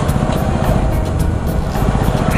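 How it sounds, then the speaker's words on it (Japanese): A loud, close single-cylinder engine of a Yamaha WR250R motorcycle drones and revs steadily, its rough low thrum filling the whole clip with no voices. "短気筒のくせにこれ本当よく回るよな、"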